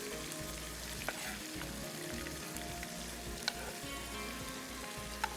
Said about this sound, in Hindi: लहसुन अदरक का पेस्ट शामिल किया और इसको अच्छे से जो है हमने भूनना है।